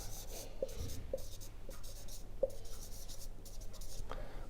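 Faint scratchy strokes of numbers being written on a board during a maths lesson, several short ticks and scrapes spread across a quiet room.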